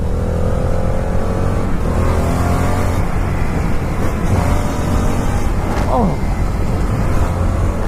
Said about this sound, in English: it's like the downshift is so smooth